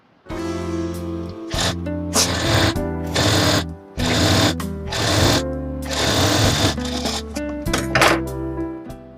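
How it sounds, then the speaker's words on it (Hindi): Sewing machine stitching blouse fabric right at a corner, running in several loud bursts of rapid mechanical chatter separated by short pauses, close and with no talk. "यहाँ पर बिल्कुल कॉर्नर पर सिलाई लगानी है"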